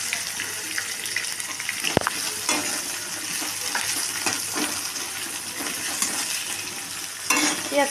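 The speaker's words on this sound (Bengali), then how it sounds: "পেঁয়াজটাকে ততক্ষণ লাল লাল করে ভেজে নিই" Chopped onions frying with whole garam masala spices in a pan for a chicken curry, a steady dense sizzle running throughout, close and loud, with a sharp clink near the start and occasional stirring scrapes.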